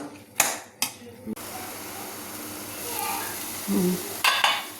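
Red chillies and gongura leaves fry in oil while being stirred: metallic scraping clatters of the spoon against the pan over a steady sizzle, with a few sharper clanks near the start and end.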